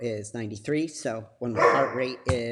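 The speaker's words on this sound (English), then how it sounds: "sorry for the dogs" Dogs bark in the background beneath a person talking steadily, the barks partly buried under the voice.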